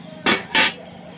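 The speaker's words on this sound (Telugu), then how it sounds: "ఇప్పుడు బియ్యం వేసుకుందాం" Washed rice pours into boiling water in a pot, making two loud, close, sizzling splashes in quick succession followed by a faint third one.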